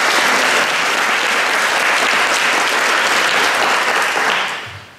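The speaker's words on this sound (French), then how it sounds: "1, 2, 3, on l'applaudit." A large audience at a French talk on aging well applauds volunteers: loud, dense, continuous clapping that holds steady for several seconds, then fades out quickly at the end.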